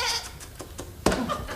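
Sheep bleating from a ewe in an oak tree, a few short broken calls spread across the moment, moderately close, with one louder, fuller bleat near the end.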